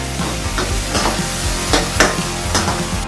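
Dhaba-style dal tadka sizzles in a pan as a spoon stirs it, with rhythmic scraping strokes every half second or so over a steady, close frying hiss.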